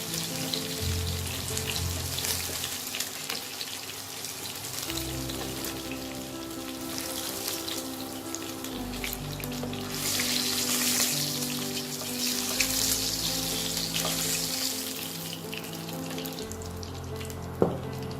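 Katla fish pieces fry in hot oil, a continuous close sizzle and spatter lasting throughout, with occasional clinks and low kitchen rumble underneath and no voices.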